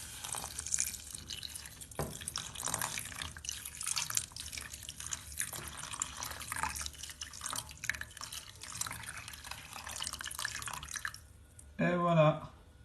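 Water is poured into a hot pan of frying chicken, splashing and dribbling over a steady sizzle, ending in a brief louder gush.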